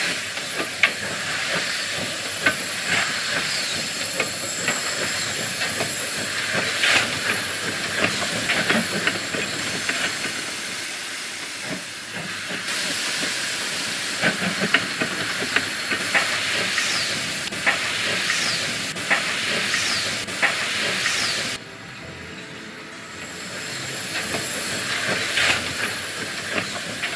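A steam locomotive from 1976 used for steam specials around Perth hisses and runs, with a steady loud rush of steam and rolling train noise, plus occasional clicks and a brief dip in level near the end.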